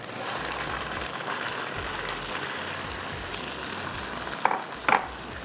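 Finely minced beef frying in a karahi with puree, a steady dense sizzle and crackle throughout, with a couple of sharper pops near the end and no talking.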